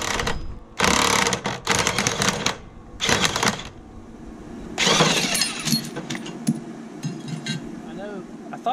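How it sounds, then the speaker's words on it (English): A DeWalt impact wrench loosening the blade bolts on a Kubota Z421 zero-turn mower fires in several loud, close, ratcheting bursts, with quieter clinking and handling noise between them. "we got our Dewalt impact we're going to use on that"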